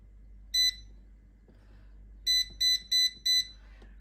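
An air fryer beeps as it is started: a single clear electronic beep, then after a pause a run of four evenly spaced beeps, close and loud over a quiet room.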